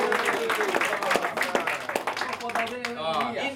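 A room full of people claps in a big round of applause for a speaker at a motivational talk, sharp overlapping claps mixed with cheering voices and a host talking over them.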